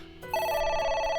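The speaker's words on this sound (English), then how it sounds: "A phone. Should I pick it up?" A telephone rings in the video game AI: The Somnium Files, a bright electronic trill that starts suddenly and holds steady, alone and clear.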